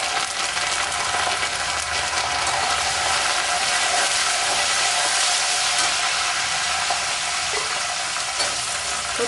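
Curry leaves crackle and sizzle in hot oil alongside fried sundakkai for a Chettinad kuzhambu, a steady dense frying hiss heard close up with faint stirring scrapes and no talk.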